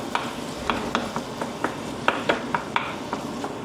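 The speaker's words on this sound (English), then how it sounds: "Put the mince. We'll just break it up." Chicken mince frying in butter in a well-used pan, with a steady sizzle under repeated scraping and stirring clicks as the meat is broken up, close and moderately loud.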